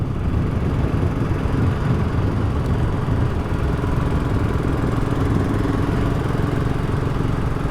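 An old BSA Goldstar 650 motorcycle engine running steadily with a dense, even drone, loud and continuous with no change in pace.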